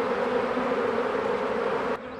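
Honeybees from a freshly hived swarm circle a small nucleus hive box, a steady dense buzz holding close and even for about two seconds before it suddenly drops quieter.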